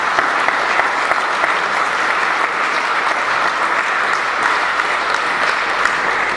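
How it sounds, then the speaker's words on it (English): Round of applause from an audience at an award ceremony, steady, dense and loud clapping sustained throughout without a break. "let's give it a round of applause"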